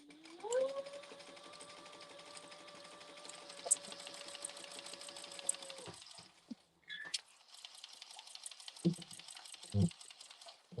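A sewing machine stitches a vinyl harmonica hobo bag in one long steady run of about six seconds, then stops. Faint handling clicks and rustles follow.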